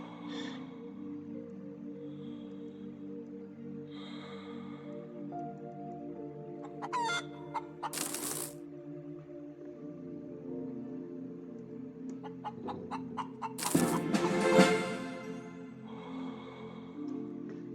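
Chicken clucking and crowing in the video game Breathedge: a few short squawky bursts and a louder crowing flourish near the end, heard alone.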